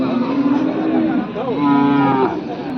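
A bull lows at the Karad cattle market, one drawn-out moo rising and falling over a steady bed of crowd and livestock noise, fairly close and loud.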